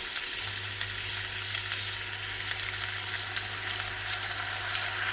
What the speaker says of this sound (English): We're going to add about this much dark soy sauce.